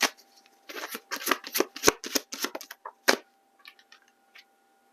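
Tarot cards shuffled and a card drawn: a quick burst of sharp riffling snaps and taps up close, then a few scattered soft clicks as the deck settles.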